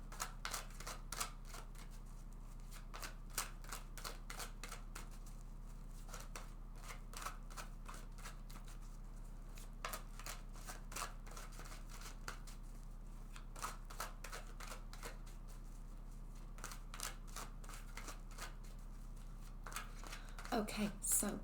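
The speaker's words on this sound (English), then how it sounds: "let's just go ahead and shuffle this deck several times" Rapid, repeated riffling and slapping of tarot cards being shuffled, close by, in bursts over a low steady hum, with no talking.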